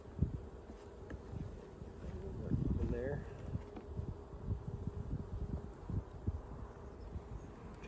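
Honeybees in an opened hive with a new queen that stopped laying make a faint, continuous low buzz, with soft rustles and occasional louder passes close by.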